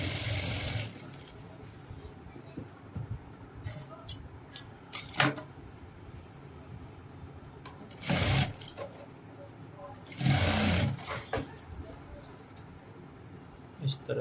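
A sewing machine stitching a pair of ladies' pants in short, quiet bursts, with brief runs of rapid mechanical chatter separated by pauses and soft handling sounds in a quiet room.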